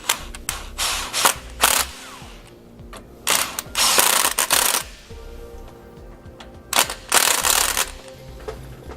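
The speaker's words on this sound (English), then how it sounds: "we're going to come back with that same 13mm socket and we're going to snug them all up" A ratchet with a 13mm socket tightens sway bar hardware under a 2015 Ford E-Series Cutaway, with bursts of rapid clicking ratcheting separated by pauses and small metallic clinks, close and loud with no talking.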